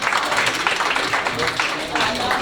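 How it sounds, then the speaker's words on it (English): Students at a health carnival clap in a brief, fairly loud round of applause, with voices chattering under and over the clapping. "You can give a round of applause"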